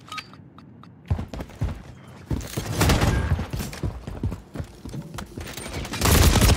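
Rapid bursts of assault rifle fire in a first-person shooter video game, sharp crackling volleys that come in clusters, getting louder and denser toward the end, with no talk over them.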